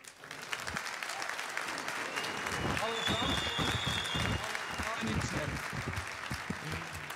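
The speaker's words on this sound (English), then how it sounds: "Your applause." Applause from an audience at a KNX trade event, a dense steady wash of many hands clapping throughout, with a voice briefly heard beneath it.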